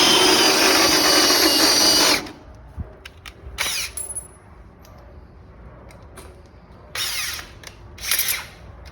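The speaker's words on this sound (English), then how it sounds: "I'm gonna drill the frame for that bolt" A power drill whines loudly for about two seconds drilling into a steel truck frame, then stops, followed by scattered clicks, creaks and a few short bursts of machine noise.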